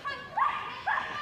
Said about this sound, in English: they're not faulted for barking